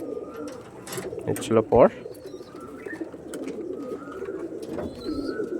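A male Andhra Lalphul tournament pigeon coos nearby in a short burst of throaty rolling calls, with someone talking around it and faint chirps in the background.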